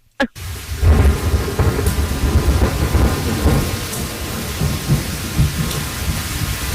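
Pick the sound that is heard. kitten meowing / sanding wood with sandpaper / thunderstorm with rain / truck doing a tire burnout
thunderstorm with rain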